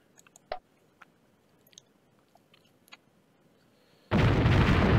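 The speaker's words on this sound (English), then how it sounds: "It just takes a few artillery shots to disrupt cavalry." Artillery fire in the Pike and Shot game's Battle of Gravelines, with a sharp distant report early on, scattered small pops, then a sudden loud sustained cannon roar filling the final second.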